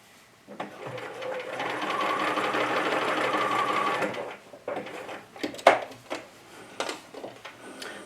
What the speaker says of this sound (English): nothing quite like the feel of a good clean sewing machine and a Microtex needle